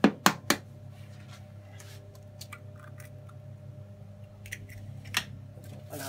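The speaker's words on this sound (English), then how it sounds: "Badly cracking an egg into our pan." An egg is cracked into a pan in a kitchen while making a European Sunday brunch: a few sharp clicks and taps at the start, then scattered light ticks and crackles over a low steady hum.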